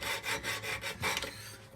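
Rasping strokes of a file widening a nut slot on an Eastman E2 OM-CD acoustic guitar, about five rhythmic back-and-forth passes, close and fairly quiet with no talking.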